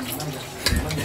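Water splashes and gurgles as it is poured into a pot for cooking a seeraga samba mushroom dum biryani, a brief steady stream with a small burst of splashing near the end.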